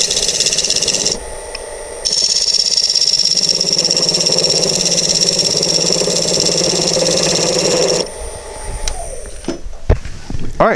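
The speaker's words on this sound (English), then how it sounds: "now I'm just going to use a negative rake scraper just to come in and make sure that that's completely flat" A wood lathe spins a bowl while a negative rake scraper works the surface: a steady, loud motor drone with scraping texture, cut off near the end as the machine winds down among some handling noises.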